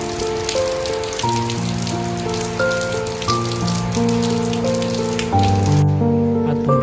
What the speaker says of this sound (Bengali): তোমরা এখন দেখতে পাচ্ছ যে এত গরমের পর ফাইনালি আজকে একটু স্বস্তির বৃষ্টি হচ্ছে।